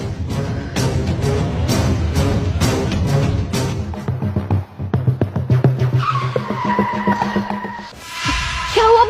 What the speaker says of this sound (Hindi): आपने गाड़ी क्यों रोक दी?